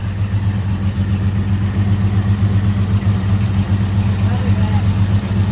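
A 1953 Chevrolet 3100 pickup truck, leaking too much gas, runs at a steady idle with an even low rumble that holds close and loud throughout, no revving.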